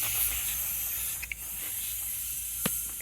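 Canned air hisses in short bursts into the wafer switches of a long JVC AM/FM multiplex radio, a steady broadband spray with a few faint clicks and one sharper tap near the end.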